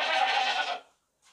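A desi castrated two-tooth sacrificial goat gives one loud, close bleat about a second long, then a faint short trailing sound after a pause.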